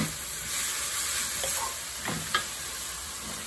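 Pea sprouts with garlic and ginger stir-fry in a wok over high heat, producing a loud, even sizzle and a few brief spatula scrapes near the end, with no speech.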